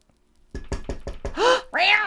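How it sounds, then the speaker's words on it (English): Knocking on a door: five quick, sharp raps in a steady rhythm, followed by two drawn-out, meow-like cries. "Miss Kitty hears a knock on the door."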